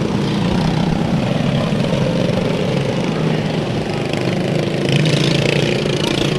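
Mini dwarf race cars circle Bakersfield Speedway during a six-lap heat race, their engines a loud, continuous buzzing drone that holds steady with slight swells as the cars pass.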